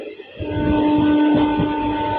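A special passenger train from Rajkot to Morbi rumbles steadily along the tracks, with a sustained tonal whine riding over the continuous low clatter, loud and close throughout.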